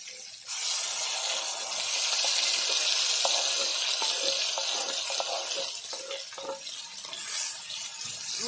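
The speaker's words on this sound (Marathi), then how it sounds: "हे तेल राहिलेलं आहे कढईत ना, त्याच्यातच आम्ही हे वाटण टाकूया" Masala paste frying in leftover oil in a kadhai for prawn masala, a loud steady sizzle starting abruptly and continuing throughout with faint stirring scrapes.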